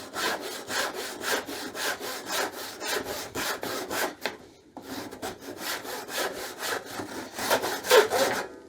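A handsaw rips along the grain of a wooden block with aggressive, coarse teeth, giving steady rhythmic rasping strokes, close and loud, with a brief pause near the middle before the sawing picks up again.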